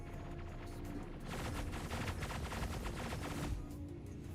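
Rapid ship-mounted gunfire from a spacecraft in Star Citizen, a dense continuous rattle of shots that swells louder through the middle and eases off at the end, over a steady engine hum.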